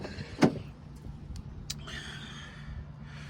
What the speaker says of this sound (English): let me open up these doors, let y'all check out the interior